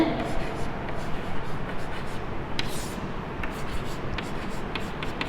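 Pen or marker writing by hand during a maths lesson on the ratio test, a steady soft scratching texture running throughout at close range, with a few sharper strokes, alongside a speaking voice.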